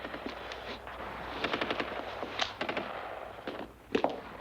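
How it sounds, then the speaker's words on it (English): Gunfire in a 1958 desert action film: muffled bursts of rapid shots, some quick rattling strings and a few single cracks, fairly distant over a low background hum. "Listen, they're shooting."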